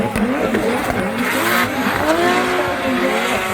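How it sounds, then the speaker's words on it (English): Drift car screaming around Mondello Park in Ireland during a Drift Masters competition, engine revving hard with tyres squealing, loud and continuous with no pause. "Kevin Pesur's car is like a rocket ship right now as he fires around Mondello Park"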